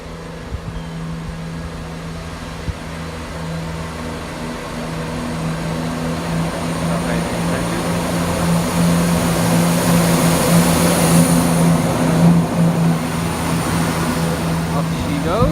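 Diesel locomotive 17522 departing Burton upon Trent station, a steady low engine drone with a rising, broadening rumble that builds over the span, heard from the platform side without talk.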